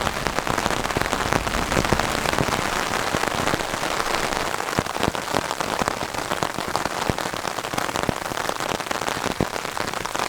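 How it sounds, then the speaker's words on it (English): Rain patters steadily on a tarp over a hammock camp during a thunderstorm outing, a dense, close drumming of many drops with sharper individual hits throughout. "as you can tell, it started to rain again."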